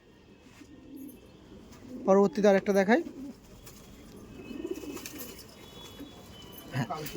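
Pigeons cooing in a loft, one clear rhythmic coo phrase up close followed by fainter calls, with someone speaking intermittently around them.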